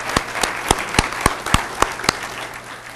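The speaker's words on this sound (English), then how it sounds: "why don't we all clap for Sam?" Sparse clapping from an audience at a green building awards event, a handful of distinct sharp claps spaced fairly evenly over a soft crowd murmur, moderately close.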